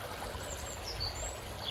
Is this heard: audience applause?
no